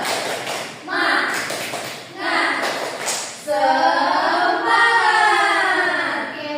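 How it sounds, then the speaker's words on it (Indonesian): A school class does a rhythmic spirit clap together, a group of hands striking in short patterned bursts close by, mixed with voices chanting and talking among the students. "kita mau tepuk semangat dulu dong"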